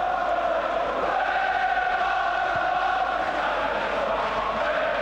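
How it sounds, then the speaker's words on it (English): Crowd at an Aston Villa versus Arsenal football match in a West Midlands stadium, a steady distant murmur and hum of many spectators without speech over it. "Good seasonal crowd in a splendid stadium in the West Midlands."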